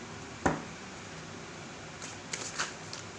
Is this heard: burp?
no